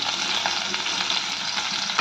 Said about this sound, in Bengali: হালকা করে আমরা পনিরগুলোকে ভেজে নেব